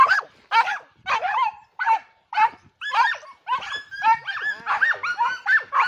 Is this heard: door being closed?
no